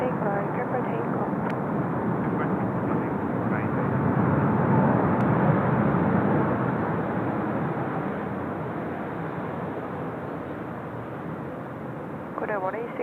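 A Korean Air heavy airliner rolls for takeoff on runway 3 at Seoul Incheon Airport, its broad steady jet roar swelling and then slowly easing off at a distance.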